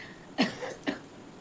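A person with a lingering cough, heard as two short, soft coughs close by in an otherwise quiet room.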